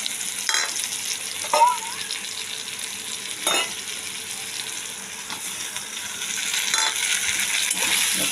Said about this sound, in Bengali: এর মশলাটা দিলাম ফুল আঁচ দিয়ে দিয়েছি ফুল ফ্লেমে এর মশলাটা কষিয়ে নেব